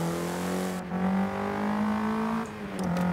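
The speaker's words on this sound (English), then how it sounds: "Very mechanical gear change, you can just hear it." Ford GT70 engine in Forza Horizon 5, heard from inside the car, drones with a strong steady tone, dropping briefly at two distinct mechanical gear changes before pulling again.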